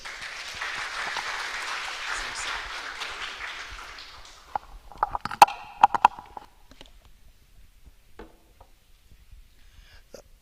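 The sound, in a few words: audience applause at a summit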